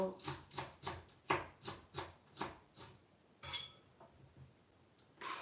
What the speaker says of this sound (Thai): หัวหอมหั่นต้นหอม